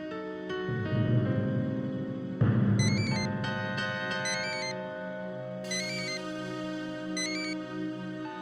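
A phone ringtone plays a bright melodic tune with chiming high notes, ringing steadily for several seconds with no voices.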